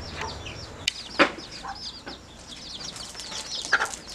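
Bantam chickens cluck and chirp in a busy farmyard flock, a steady overlapping chatter of calls with a few sharper squawks, fairly close and moderately loud.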